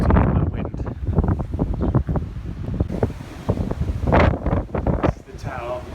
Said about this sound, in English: Does shelter from that wind.